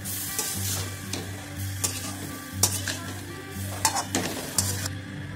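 Cauliflower pieces fry in hot oil for a wedding-style Bengali cauliflower roast, stirred in the pan with a steady sizzle and repeated scraping strokes of the spoon close by.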